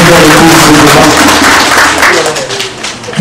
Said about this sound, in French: On va applaudir encore une fois Madame Simone